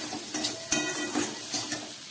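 Ground spices such as cumin being stirred and mixed in a hot pan, a soft sizzle under scraping strokes of a utensil, with a few sharper clinks against the pan, no talking.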